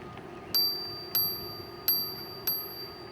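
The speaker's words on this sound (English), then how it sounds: "We'll hit him with the bell." Bell on a Rad Power Bikes Radster Road e-bike rung four times in crisp, evenly spaced dings with ringing tails, close and clear over a faint outdoor hum.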